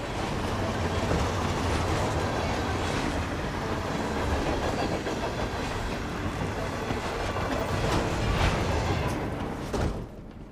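Steady rumble of a moving train in Hitman 3, continuous loud rolling noise with rhythmic clatter throughout, easing off briefly near the end.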